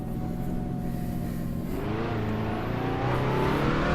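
A BMW M3 E30 engine in the Assetto Corsa racing game drones steadily through a turn, its pitch dipping and then climbing as the revs change. The engine is loud and continuous, with no talking.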